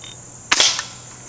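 A pellet gun shoots at cans, one short sharp crack close by with a brief rattling tail, set against a quiet steady background.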